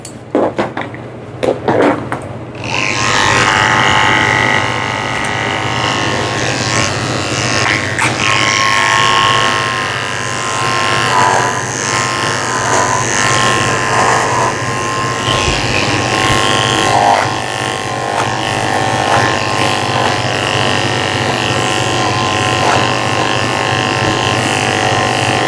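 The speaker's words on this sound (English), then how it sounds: "Also going to use the 3-blade on his head too." Steady, close buzzing hum of electric dog clippers fitted with a 3-blade grooming a Shih Tzu's head, running continuously for the whole stretch after a few brief knocks at the start.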